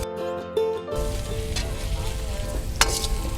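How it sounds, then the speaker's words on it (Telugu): Garlic, onion, ginger and chilli fry in a pan for a chicken starter, giving a steady, close, loud sizzle that starts after a brief tonal lead-in and carries on without talk. "ఇది ఫ్రై కావాలి మేడం."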